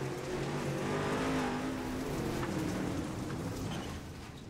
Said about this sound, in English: you can just hear everyone on the gas just trying to blast their way through